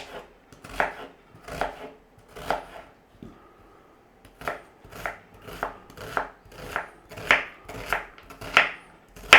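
An onion is chopped with a knife on a board in steady, rhythmic strokes, about a dozen crisp cuts close up, with a short pause after the first few.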